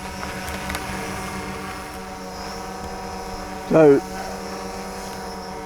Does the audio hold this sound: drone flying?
yes